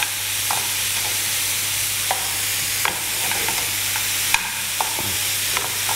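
Bacon fries in a pan with monkfish stock, making a loud, steady, broadband sizzle and crackle, marked by occasional sharp pops and a few scrapes of stirring.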